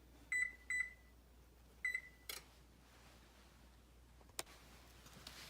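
An oven control panel beeping as it is set to preheat in a home kitchen: three short electronic beeps, then a softer one, followed by a couple of faint clicks against quiet room hum.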